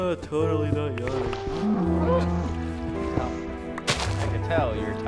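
Minecraft cow moos a few times, low and drawn out, mixed with game music and people talking over it.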